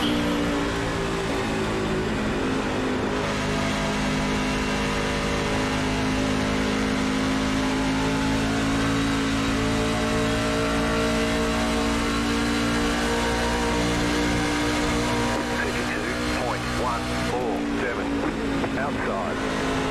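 NASCAR stock car engines roaring around Charlotte in the iRacing sim, a dense, loud, continuous drone of several cars with steady tonal layers throughout, with commentary-like voices mixed underneath.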